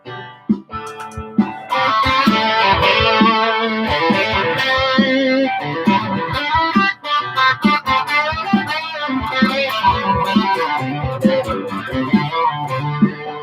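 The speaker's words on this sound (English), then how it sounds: "I'm going to go for a bit of distortion." Electric guitar played through distortion on a British humbucker voicing in neck-pickup mode, a continuous run of driven chords and notes, loud and up close with no talking.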